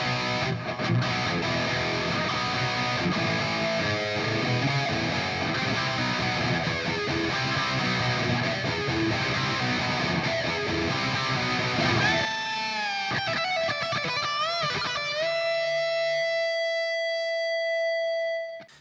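Distorted electric guitar through a Hotone Ampero Mini preset in a hot-rodded amp voice, dense driven chords played loud and steady, then a shift to bending lead notes that ring out into one long sustained tone before cutting off.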